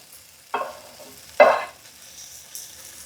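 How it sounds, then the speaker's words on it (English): Garlic sautés in a pan before rice goes in, a low, faint sizzle broken by two sharp stirring scrapes and one softer scrape near the end. "So I want to just saute this for just a minute"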